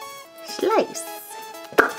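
A blade slices into a giant squishy toy ball, a short soft cut followed by a sharp chopping knock near the end, close and fairly loud, with a faint voice in the background.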